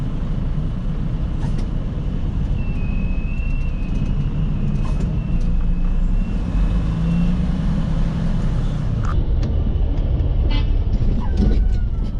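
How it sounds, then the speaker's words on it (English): Truck horn honking at a loading dock, sounding over a steady low rumble of an idling engine and traffic; brief toots stand out against the continuous road noise. "honk means stop, 2 honks means go forward a little bit more, and then 3 honks means go in reverse"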